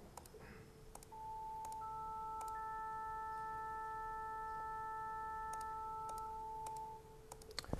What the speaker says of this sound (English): your brain still hears the four sine waves independently